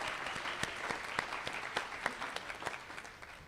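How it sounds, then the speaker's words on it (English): An audience at a medical school class of 2022 awards event applauds an award winner with dense, steady clapping and a few sharper individual claps standing out. "we're all clapping for you from afar"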